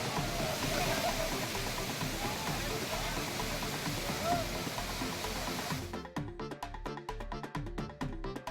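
A steady roaring rush of water from a waterfall in high flow fills the scene, dense and continuous, then gives way to choppy broken noise near the end.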